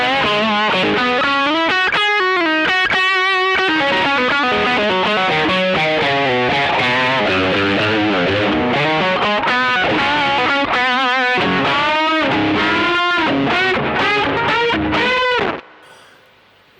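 A loud distorted electric guitar lead, boosted with a Tube Screamer into a Rat pedal, plays bending, singing notes and fast phrases, then cuts off abruptly near the end.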